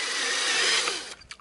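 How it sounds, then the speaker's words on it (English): A power drill whirs steadily at high speed for about a second before spinning down and stopping, close and fairly loud with no voices. "I'm going to use my drill."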